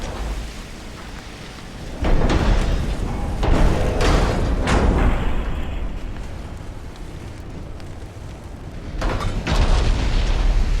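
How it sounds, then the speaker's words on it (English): Heavy naval guns on a battleship boom with high explosive rounds in Ultimate Admiral: Dreadnoughts, several deep thunderous blasts and rumbling impacts spread across the stretch over a steady low background, with no voices. "Let's see how these high explosive rounds do this time."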